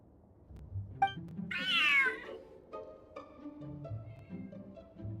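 A large cat in Genshin Impact lets out one clear rising-and-falling meow near the start, with soft game music and chimes playing quietly underneath.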